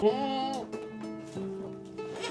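A goat bleats in long, quavering calls, a few drawn-out cries in a row, close by and steady.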